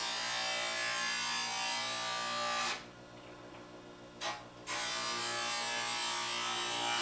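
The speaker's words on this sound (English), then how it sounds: "deburring the product before it goes on to getting bent" A metal part is deburred before bending with a steady abrasive whir and rasp. It drops out abruptly about midway, gives one brief blip, then resumes at full strength.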